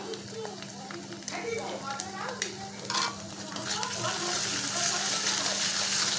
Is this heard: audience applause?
no